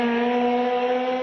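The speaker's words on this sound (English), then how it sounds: "when we heard of the car that runs on air" A compressed-air powered car, an old rusty vehicle, runs steadily with a sustained mechanical drone and whine, loud and close, with no talking over it.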